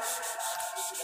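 Car body filler being hand sanded with 1000-grit sandpaper, a brief burst of close, rhythmic rubbing strokes, soft scratchy and evenly paced.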